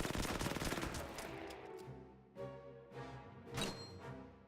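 Infantry rifle and machine-gun fire rattles in rapid bursts, followed by a few separate heavy thuds from mortar strikes on a desert battlefield in Order of Battle, loud at first and then fading.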